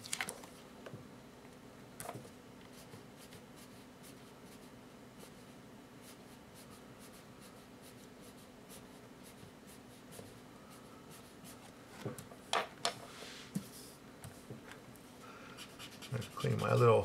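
A pencil scratches softly across paper during realistic drawing shading, with faint rubbing strokes and light ticks throughout, quiet and close, and a busier flurry of strokes near the end.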